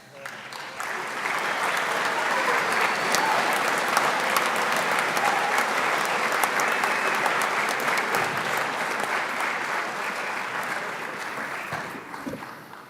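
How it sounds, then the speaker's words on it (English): Sustained audience applause at a graduation ceremony for NCKTC graduates in a performing arts hall, a steady dense clapping that swells in and holds loud for over ten seconds before tapering off. "give them one more round of applause"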